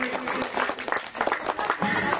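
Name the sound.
applause for a girl at a Ganpati celebration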